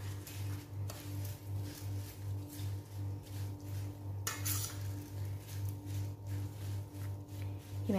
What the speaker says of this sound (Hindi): ये भी मैं इसी पे डाल दूंगी और इन्हें अब मैं मिक्स कर दूंगी